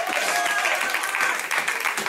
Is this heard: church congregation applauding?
yes